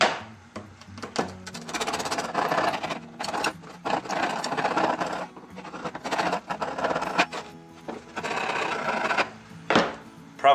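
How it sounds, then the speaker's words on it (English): Hand filing of cuts in oak for a storage box, close rasping back-and-forth strokes in uneven bursts separated by short pauses. "I just grab my file, which I was gonna do anyways. I just like to clean up these cuts"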